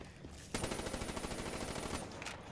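A gun fires on full auto in Call of Duty, a fast rattling burst of shots lasting about a second and a half, fairly quiet and set against a faint background.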